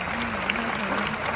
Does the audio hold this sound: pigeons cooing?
no